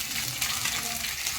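Ingredients for a coconut chutney fry in a pan with a steady, close sizzle and hiss that carries on without a break from start to finish, no voices on top.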